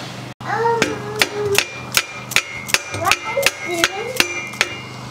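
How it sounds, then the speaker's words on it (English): Hammer blows on an old bicycle part during a workshop repair, about a dozen sharp metallic strikes in an irregular rhythm with ringing tones, close and loud over a low background hum. "I'll probably be getting the hammer out and giving it some hammers"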